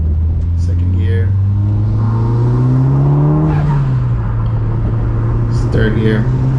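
Tuned turbocharged Mitsubishi Evo 8 accelerating hard in second gear, a loud steady engine drone rising in pitch for a few seconds before easing off as the pull ends, with no talk over it.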